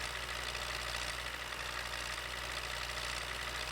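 An MTZ 82 tractor engine in Farming Simulator 15 runs steadily in a continuous low, slightly knocking drone, even and unchanging throughout with no voices.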